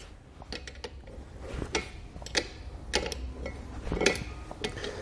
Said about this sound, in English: We'll then take our air fitting, thread it down into the larger hole, and tighten it down with a 9/16 wrench.